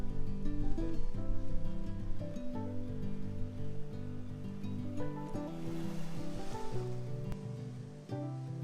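Surf rolls and breaks steadily on a small hidden bay beach, a continuous close wash of waves with broadband hiss and some wind across the microphone, no voices.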